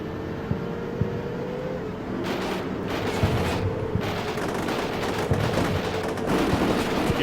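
Bursts of machine gun fire in Combat Mission Shock Force 2 during a Canadian assault on an insurgent base, rapid rattling volleys mixed with a low engine drone, loud and continuing throughout.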